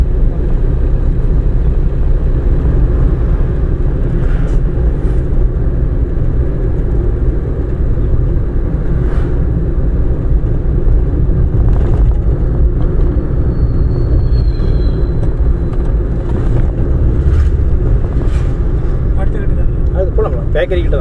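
A car engine rumbles steadily and loudly from inside the cabin during a driving lesson. A trainer and a learner talk over the constant drone.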